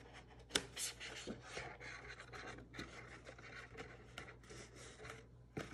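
Paper flaps of a handmade gift bag are folded and creased in short soft rustles and rubs, close up and quiet, with a couple of sharper crinkles.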